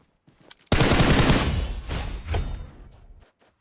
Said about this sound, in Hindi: हमको बंदों के फायरिंग का साउंड सुनाई देता है